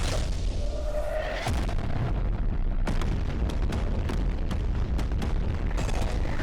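Loud rumbling booms and sharp cracking blasts from a new titan speaker unit in the video game The Skibidi Wars follow one another in a dense, continuous barrage, with no voices.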